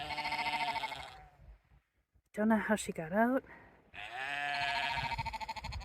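A sheep on a Scottish hill trail gives a few wavering, throaty bleats between stretches of a nearby person talking over steady wind.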